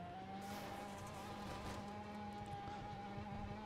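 A car engine in the Roblox racing game Drive-Shaft revving hard during a drag race after an engine upgrade, holding a loud, steady, high whine with a constant tone for several seconds.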